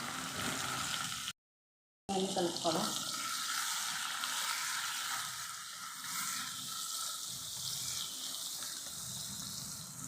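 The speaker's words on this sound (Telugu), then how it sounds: "అన్నీ ఇవన్నీ వేయించుకోవాలి మంచిగానే" Green chillies, onion and spices fry in a pan for egg biryani, giving a close, steady hiss and sizzle with occasional stirring, broken by a brief gap of silence near the start.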